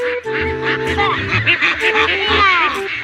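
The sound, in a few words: ducks calling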